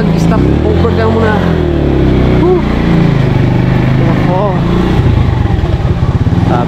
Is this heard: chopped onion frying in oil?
no